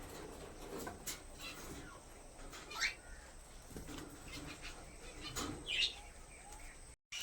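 Pet cockatiels and Java sparrows chirp now and then while eating greens, with a few brief, fairly faint calls over a quiet indoor background.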